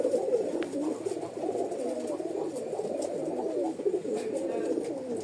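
Pigeons cooing steadily at a market stall in Rajshahi where birds are sold, a soft continuous murmur of several birds nearby with occasional faint background noise.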